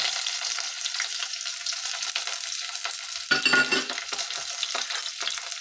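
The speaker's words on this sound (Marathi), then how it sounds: "तेल छान गरम झालं की आपण त्याच्यामध्ये टाकणार आहोत हा बारीक चिरलेला कांदा आणि हे कढीपत्ता" Finely chopped onion and curry leaves sizzle in hot oil for misal, a constant bright frying crackle with a louder burst of spattering near the middle, close and without talk.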